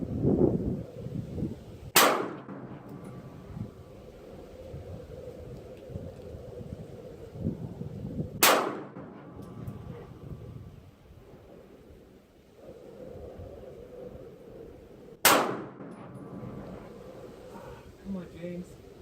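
Sig Legion P226 pistol fired at steel targets on a range, three sharp shots spaced several seconds apart, each with a ringing tail, with wind noise and people talking throughout.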